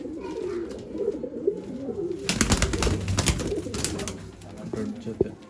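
A pair of pigeons, a Surmi male and a Dhooma female, coo softly nearby, with a busier stretch of flapping and clattering in the middle and a voice speaking faintly.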